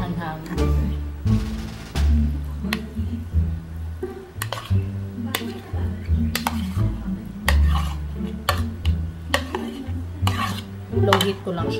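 Ham is stirred in a pan on low heat, a busy run of metal utensil scrapes and clinks against the pan with faint sizzling beneath, loud and close, as a voice talks briefly in the background.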